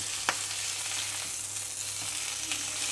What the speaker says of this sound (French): Et je viens retourner mon steak.